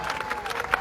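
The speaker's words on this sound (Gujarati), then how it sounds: "એમની માટે પણ એકવાર જોરદાર તાળીઓ થઈ જાય" Crowd at a political rally in Gujarat applauding, a brief burst of steady clapping with a few sharper claps standing out, fairly loud and continuous over its short length.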